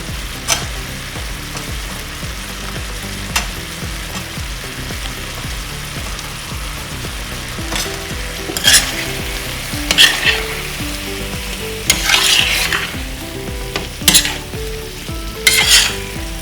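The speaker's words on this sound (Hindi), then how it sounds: "इसमें मैं डालती हूँ थोड़ा केचप और मिक्स करती हूँ ये धनिया पत्ती" Paneer frying in a pan with ketchup and chopped coriander being stirred in, a constant loud sizzle under music, with spoon scrapes and clacks against the pan that grow busier toward the end.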